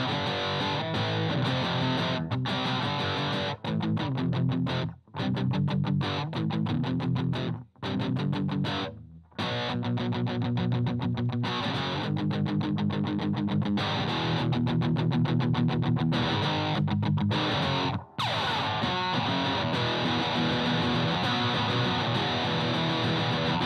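An electric guitar runs through a BOSS Metal Zone distortion pedal used as a preamp through an amp's return input, playing dense, heavily distorted sustained chords with brief choppy stops, loud and without talk.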